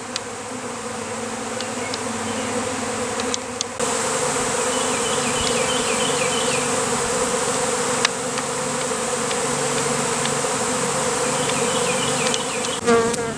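A honeybee swarm pours out of a hive box, filling the air with a dense, steady buzzing drone, with individual bees whining past close by in short rising and falling passes.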